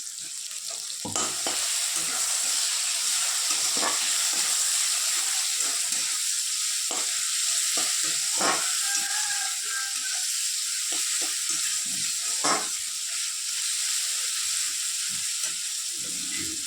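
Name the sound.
green chillies sizzling in frying oil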